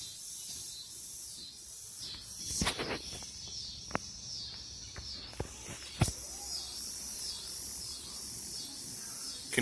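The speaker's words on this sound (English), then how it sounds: "Here comes all the cicadas." Cicadas droning outdoors during a solar eclipse, a continuous high buzzing chorus that holds throughout, broken by a few sharp nearby clicks and handling knocks.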